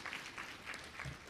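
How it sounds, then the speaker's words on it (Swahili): A faint, brief patter of audience clapping fills a formal government ceremony in Dodoma, Tanzania, held to receive EU budget support funds. The applause is quiet and steady, with no voices over it. "Naomba tumshukuru kwa makofi kwa huduma hii nzuri"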